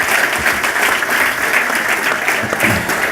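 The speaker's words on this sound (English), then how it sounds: "Here's where you can applaud." Audience applause at the close of a talk on energy risk management, dense, even clapping from a full room that holds steady for a few seconds with no speech.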